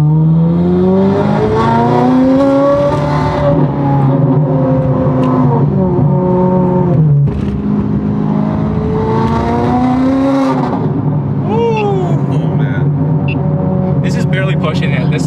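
Ferrari 430 Scuderia exhaust droning loudly from inside the cabin while driving, its engine note rising and falling through gear changes and revs, with a person talking over it.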